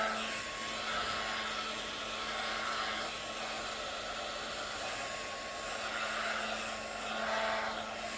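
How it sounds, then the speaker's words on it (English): A heat gun blows steadily while melting wax across a gouache canvas painting, a constant airy whoosh with a faint electric whine, moderately quiet and unbroken throughout. "I just heat it up a little bit to move the wax around."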